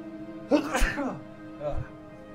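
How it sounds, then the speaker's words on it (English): A single sharp sneeze bursts out, followed by a softer breathy sound a moment later. "oh, I gotta sneeze."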